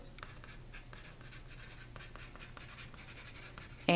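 A pen or marker writes a name and class onto an artwork label, producing a steady run of close scratchy strokes with short pauses, ending in a brief louder knock.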